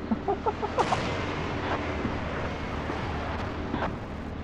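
Gunfire and heavy artillery shelling from a 152 mm ML-20 howitzer-gun in a Battlefield video game battle, with a dense rumbling wash of distant booms and scattered sharp reports that are loudest early on, under a faint voice.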